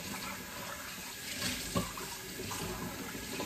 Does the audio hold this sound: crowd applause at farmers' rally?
no